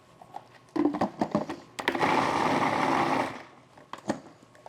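Blender whirring a vegan char siu mixture: a few short pulses, then one sustained loud whir for about a second and a half, followed by scraping and clinks.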